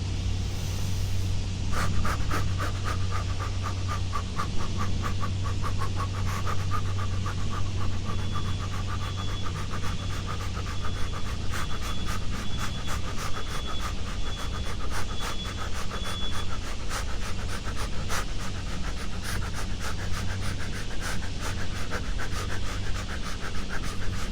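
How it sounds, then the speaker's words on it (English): Rapid, rhythmic breath-of-fire panting from a kundalini qi-gong breathing exercise, quick sharp exhalations repeating steadily over a low steady hum, close and continuous with no speech. "One more breath of fire."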